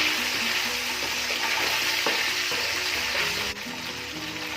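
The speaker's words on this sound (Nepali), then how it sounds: "अब केचप राखेर पनि हामी 20-25 सेकेन्ड यसलाई भुट्छौँ।" Ketchup, chilli flakes and pepper powder frying in a pan for meatball chilli, giving a close, steady sizzle with soft stirring scrapes and a brief dip near the end, with no talking.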